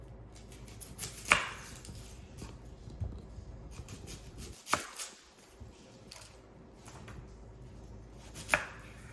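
An onion being chopped by knife on a cutting board in a home kitchen, with soft, irregular thuds and scraping strokes, a few sharper knocks standing out over quiet background, close and fairly faint with no voices.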